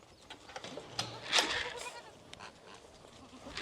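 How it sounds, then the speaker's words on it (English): Goats on a farm let out one brief, faint bleat midway, set against quiet outdoor background noise. "The goats."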